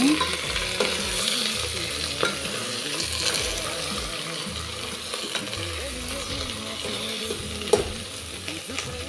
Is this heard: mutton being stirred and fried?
yes